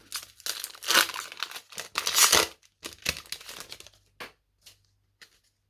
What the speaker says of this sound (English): I'll wind down by just ripping open some packs